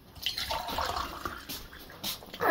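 Water pours into a cup or container during a momo food challenge, making a short splashy trickle with a few drips, fairly close and with no talk.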